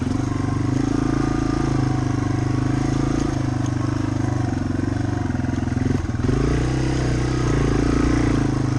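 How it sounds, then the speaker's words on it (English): A Yamaha TW200 motorcycle engine rumbles steadily at low revs in first gear, crawling along just above idle with a constant, throaty drone and light clatter. "This is just first gear crawling through here. Just above idle."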